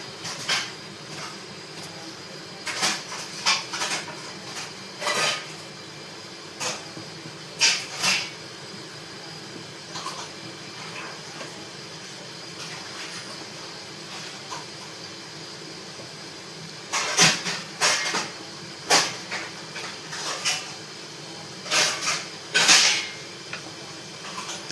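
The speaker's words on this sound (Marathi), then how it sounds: "आता मस्त अशी एक एक भजी सोडत आहे." Bhaji fritters dropped one by one into hot oil in a kadhai, each drop bringing a sharp burst of crackling sizzle over a low background hiss, the bursts spaced irregularly and clustering near the end.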